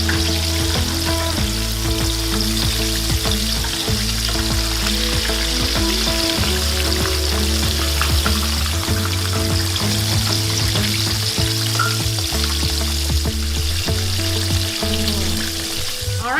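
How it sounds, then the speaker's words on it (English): Pork chops frying in a pan of hot oil, a loud, steady sizzle and crackle that runs unbroken throughout with a low rumbling hum beneath it. "while our second batch of pork chops are frying"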